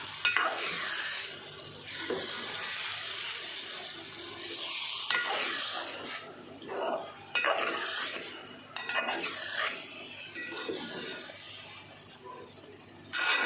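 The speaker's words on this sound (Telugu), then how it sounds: "కూర అడుగంటకుండా నిదానంగా కలుపుతూ ఉండాలి." Egg curry is stirred slowly in a pan with chilli powder added, producing repeated swishing scrapes of a spoon in bursts over a soft sizzle, close by with no talking.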